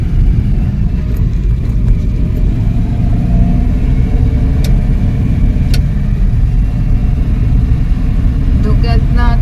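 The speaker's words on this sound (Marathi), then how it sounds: "तिथून येताना गाडी एकदम सावकाश चालवावी लागते" A car climbs a rainy, fog-bound mountain ghat near Chiplun with a steady low engine rumble and road noise, loud and continuous, while a person talks over it.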